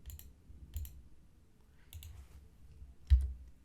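A computer mouse clicks sparsely while a circuit simulator is worked on screen: four or so short, crisp clicks spaced about a second apart, close to the microphone, over a quiet low hum with no talk.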